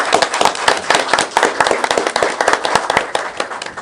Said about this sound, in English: I want to give Councilman Wade Hamner a round of applause